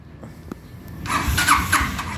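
An ATV 350 engine cranks as its starter motor is jumped straight from the battery, a loud whirring crank kicking in after a second of quiet and churning on to the end.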